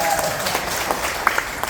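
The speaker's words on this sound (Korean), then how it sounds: "그리고 박수 한번 해주세요." Audience applause at a talk in Seoul, a steady dense wash of clapping from a crowd filling the whole short stretch, moderately loud and close.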